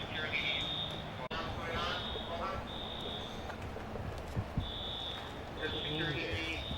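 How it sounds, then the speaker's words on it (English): A fire alarm sounds during a disaster drill at a medical facility, a steady high electronic tone in repeated bursts running through the scene beneath continuous talking and background commotion. "Facilities is on their way to shut off the alarm."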